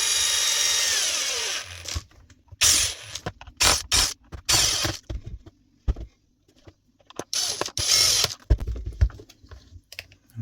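A screwdriver works screws out of a broken home appliance, with bursts of buzzing, clicking clutch ratchet that start and stop between quiet gaps, close and fairly clear.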